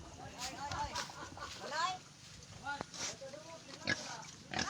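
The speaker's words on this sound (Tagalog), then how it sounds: "May mga alaga ding baboy." Pigs kept on a provincial farm, with grunting and squealing calls scattered through the clip amid other animal noise and people talking nearby.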